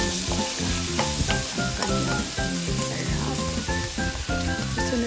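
Bacon fries steadily in a pan on the way to golden brown, a loud close crackle with sharp popping bursts over a constant sizzling hiss, under soft background music.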